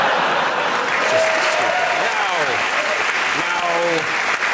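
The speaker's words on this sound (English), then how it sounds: "You've got to applaud that" Studio audience applauds and whoops at a talk show after a photo of a puppy in a tie is shown, a dense continuous wash of clapping with cheers and voices mixed in throughout.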